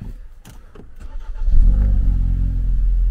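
A 2017 Ford Focus engine cranking briefly with a few clicks, then catching and settling into a steady, loud idle rumble close by, with no talking.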